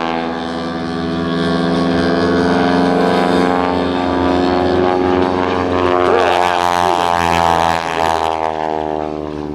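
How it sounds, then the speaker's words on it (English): Aerobatic propeller airplane flown by Gene Soucy at the 2007 Abbotsford International Airshow, a loud, sustained droning engine and prop roar with harmonic pitch shifting as it climbs and loops, steady throughout without talk. "pushes the airplane upside down over the top"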